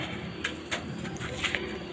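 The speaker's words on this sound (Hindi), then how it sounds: "छोटे छोटे पंजों का ये है कबूतर है इसका" Pigeons coo softly in a coop, faint low murmuring calls repeating under quiet background noise.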